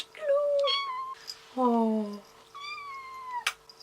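A pet cat meows repeatedly indoors, several rising and falling cries close to the microphone, with a person briefly greeting between them.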